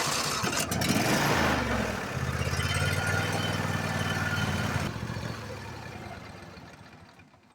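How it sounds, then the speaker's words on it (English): A Briggs & Stratton Intek V-Twin riding mower engine cranks and catches, then settles into a steady, loud, close throbbing idle before the sound tapers off toward the end, no speech over it. "we'll go ahead and start the engine and idle it for a few minutes to warm up the oil"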